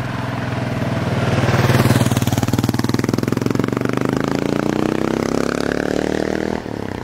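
A 1987 Kawasaki KLR 650 big single-cylinder engine under riding on the open road, loud and close, its steady throb rising in pitch as the bike accelerates over several seconds.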